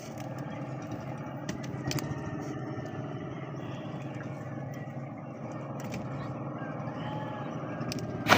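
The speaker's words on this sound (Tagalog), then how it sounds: "Maraming tunog ng makina mga ka-sisters." Engines of many vehicles rumble nearby, a steady low mix of idling and passing motors with occasional clicks and scrapes, moderately loud and continuous.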